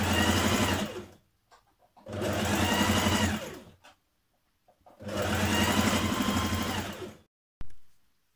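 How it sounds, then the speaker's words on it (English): A sewing machine hemming a shirt dress whirs in three steady bursts of about two seconds each, separated by short pauses, close and fairly quiet, with a brief final start. "I'm just hemming the dress now before I do the buttons."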